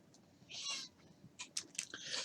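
A short, soft cat meow close by, with a few faint crunchy chewing sounds after it; no talking.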